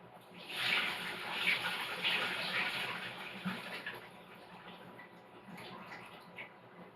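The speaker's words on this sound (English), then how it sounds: "I'm going to get rid of the cold water." Cold water pours out of a cooking pot into a kitchen sink where potatoes were rinsed, a steady splashing rush lasting several seconds that tapers off toward the end, heard close with no talk.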